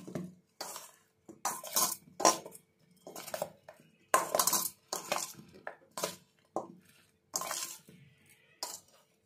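A spoon scraping and clanking against a pot while mushroom curry is mixed, repeated close metallic strokes in an uneven rhythm with short silent gaps between them.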